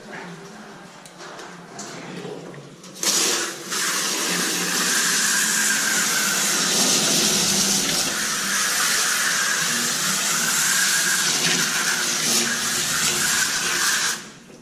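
Water pours steadily to rinse brewing mash through a sieve in a pot, a loud continuous splashing rush that starts abruptly after a short quieter stretch and cuts off near the end.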